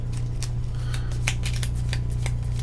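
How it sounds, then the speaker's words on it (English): Green board game cards for the Hellboy board game being shuffled by hand, a run of quick crisp riffling snaps over a steady low background hum, with no voices. "I'm shuffling up all the green cards."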